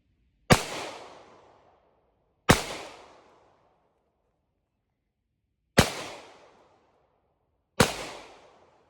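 Four sharp, loud airsoft shots from a Draco-style build fired one at a time as the rest of the magazine is emptied, the first two about two seconds apart, then a pause and two more, each decaying quickly.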